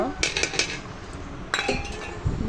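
Washed sago pearls tipped into a pot of payesh (rice pudding), with several metallic clinks and scrapes of a spoon against the pot over a low stirring background.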